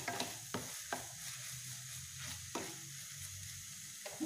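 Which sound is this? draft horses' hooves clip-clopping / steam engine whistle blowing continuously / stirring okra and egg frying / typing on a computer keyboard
stirring okra and egg frying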